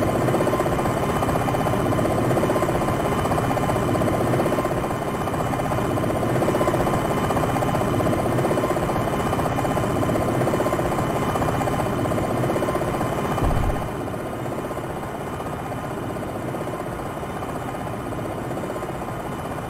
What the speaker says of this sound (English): gently put your aircraft on the ground